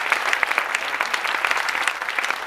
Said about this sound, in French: Et qu'on l'applaudisse énormément.